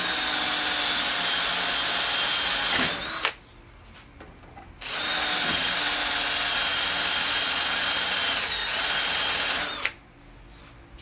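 A power drill fitted with a number 15 bit whirs steadily through plastic, running in two long sustained bursts separated by a brief pause, loud and close.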